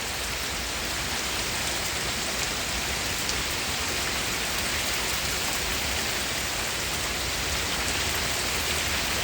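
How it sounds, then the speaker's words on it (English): Heavy rain pours steadily during a spring thunderstorm in Cleveland, a dense, even hiss of drops on surfaces that stays loud and unbroken for the whole stretch, with no voices. "I think we've had enough rain already."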